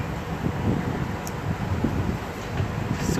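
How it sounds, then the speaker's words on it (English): Strong wind roars across the microphone outdoors at a cafe stop on a Sunday morning, a steady low rumbling buffet with gusty swells and no voices. "Super windy today"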